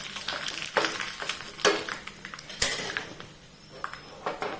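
Asafoetida powder, a chopped green chili, dried red chili and curry leaves sizzle in hot oil for a Konkani-style mango upkari tempering, crackling in bursts with sharp pops and stirring clatter, close and fairly quiet.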